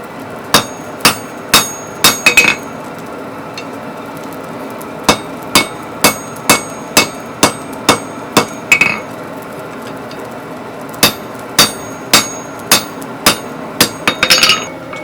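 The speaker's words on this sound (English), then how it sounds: "You'd lay it on that edge and hammer it in that way" Steady, evenly spaced hammer blows ring out on the boss of box jaw tongs being forged, sharp metallic strikes in runs with brief pauses between groups, loud and close.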